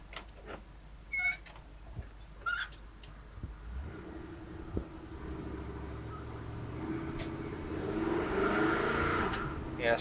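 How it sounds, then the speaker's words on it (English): A 1971 Chevrolet C10 truck's engine revs up on a rain-wet road, a low rumble building steadily over the second half with tire and road noise, close and fairly loud, after quieter idling with a few clicks. "I gave it some gas and the tires were wanting to spin"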